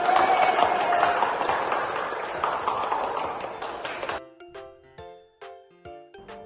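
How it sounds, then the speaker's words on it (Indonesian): Schoolchildren applaud together in a classroom, a dense sustained clatter of clapping for about four seconds that stops abruptly, leaving a few scattered sharp taps and knocks. "Tepuk tangan dulu."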